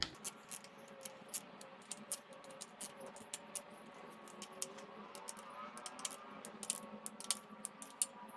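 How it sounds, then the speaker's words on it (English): A torque wrench set to about 20 foot-pounds on a 2012–2021 Range Rover L405 5.0L engine gives a rapid series of faint, sharp clicks close by over a quiet background. "got the torque wrench on. About 20 foot-pounds. You're gonna hear it click."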